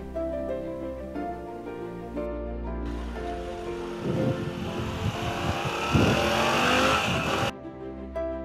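A Moto Guzzi motorcycle rides on through the Swabian countryside over the Geislinger Steige, its steady engine drone building into a louder, rising rush of engine and wind midway before settling back, with no talk.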